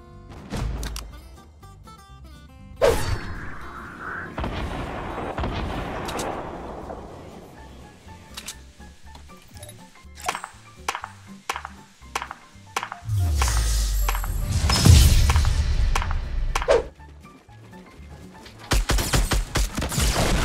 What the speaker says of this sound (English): she hit herself with a rocket